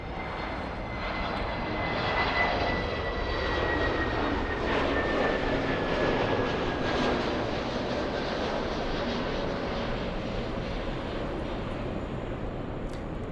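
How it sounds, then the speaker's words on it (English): A Delta Airlines Boeing 737-900 taking off from LAX, its jet engines swelling into a loud sustained roar with whining tones across the whole stretch, heard from the ground nearby. "Let's go for the takeoff. Delta Airlines 2606 flying to Seattle, Washington, a 737-900."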